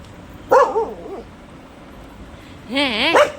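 A close dog gives two whiny, yelping barks with a long pause between, the second drawn out and wavering.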